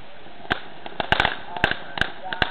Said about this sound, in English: We're lining up the next firework.